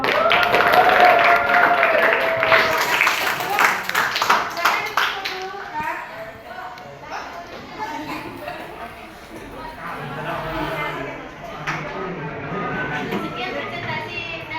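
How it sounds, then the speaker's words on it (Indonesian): An audience in a school teachers' training session claps for a presenting group, a busy patter of hands mixed with voices talking over it. "silakan kita beri aplaus untuk kelompok"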